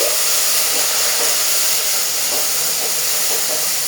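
Garlic and ginger paste sizzles and hisses steadily in a hot pan while being stirred, a loud, continuous broadband frying hiss with faint scraping touches and no talk.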